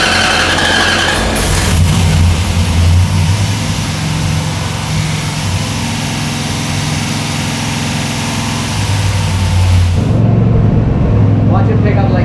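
A Mopar 408 stroker small-block engine on a dyno, fitted with a Mopar air cleaner top on a 12-inch K&N flat base, roars loudly and close, rising into a sustained rev and then dropping back toward idle under voices.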